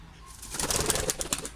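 A pigeon that cannot get off the ground flaps its wings in a short burst of rapid fluttering beats, close by and moderately loud, under faint background noise.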